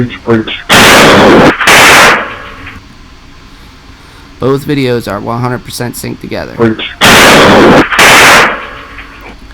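Police gunfire during a door breach comes as several sharp, very loud bangs: a pair near the start and another pair later, separated by a stretch where someone talks.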